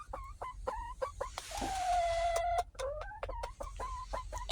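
A chicken clucks close by in quick repeated bursts, broken by a longer drawn-out squawk partway through, with no other sounds competing.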